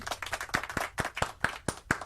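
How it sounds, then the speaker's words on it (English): Sharp handclaps from a few people, spaced roughly every quarter second, fairly close and moderately loud. "Round of applause"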